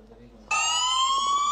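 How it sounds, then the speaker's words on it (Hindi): A phone's Gorkha anti-theft alarm siren bursts on abruptly after a brief quiet moment, blaring a loud, steady electronic wail that holds to the end. "अच्छा सायरन बाजेगा और पासवर्ड मांगेगा।"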